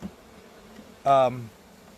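A brief, close buzzing hum from a worker honey bee rises suddenly and fades after about half a second, with near silence around it.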